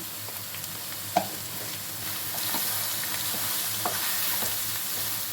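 Ridge gourd curry with turmeric is stirred in a pan, giving a steady sizzle with scattered spoon scrapes and light clinks against the metal, close and continuous, with no talking.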